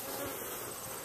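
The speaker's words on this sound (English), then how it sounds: "I'll get rid of those bees" Honey bees buzz faintly and steadily around a hive during a honey harvest, a soft continuous insect drone with no other sounds.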